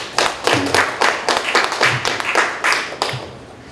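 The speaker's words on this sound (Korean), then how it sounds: "이영석 군사학 박사님께 다시 한번 뜨거운 박수 부탁드려 보겠습니다" Forum attendees give a round of applause to a military science doctor, a small group heard as distinct, fairly close claps in a loose, uneven rhythm that thins out toward the end, with no talking.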